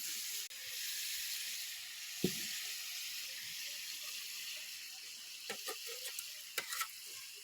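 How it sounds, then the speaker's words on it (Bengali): Ground ginger paste with Kashmiri chilli powder, turmeric and salt sizzling in a pan: a soft, steady hiss, fairly quiet, with a few scattered scrapes and clicks from stirring toward the end. "দেখুন, বাটা মশলা রান্না হচ্ছে।"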